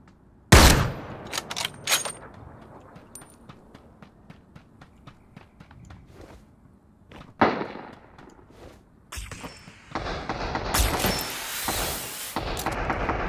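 Rapid bursts of gunfire in the shooter game Ring of Elysium, loud sharp shots at first, then a string of fainter distant pops, with heavier sustained firing building toward the end.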